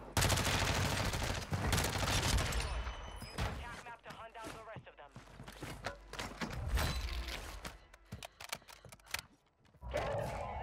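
M4 assault rifle fire in Warzone 2 at Vondel Park, loud rapid bursts of automatic shots cracking in quick succession with short pauses between volleys, close and dominant throughout.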